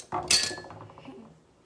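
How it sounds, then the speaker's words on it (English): A spoon clinks sharply against a bowl while homemade play dough mixture is stirred, one bright metallic strike followed by a few softer scraping taps that fade quickly. "Now I'm going to stir it in."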